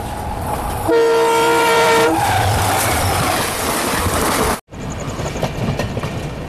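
A Nanded–Pune express train arrives at Jalna station, its horn blaring loudly for about a second before the heavy rumble of the passing train carries on, briefly cut off near the end.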